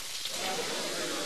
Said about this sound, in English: It's the sound of flavor erupting as freshly prepared ingredients sear, simmer, and caramelize right there at your table.